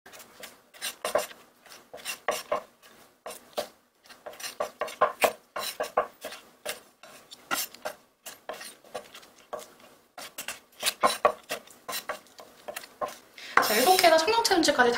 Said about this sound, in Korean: 자, 이제 썰어줍니다.